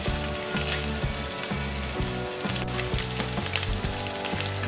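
Chicken pieces for ayam bakar Padang fry in a pan, making a steady sizzle with soft crackles and pops at a moderate level.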